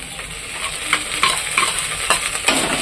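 Spice paste sizzles steadily in oil with fried onions while a spatula scrapes and stirs in short, irregular strokes, close by.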